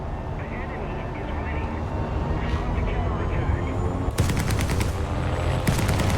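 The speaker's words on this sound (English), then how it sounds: "Love those 30mm cannons." Cannon fire from a Me 262 jet's 30mm guns in the War Thunder combat game: two rapid bursts of heavy shots break out over a constant loud roar of jet engine noise.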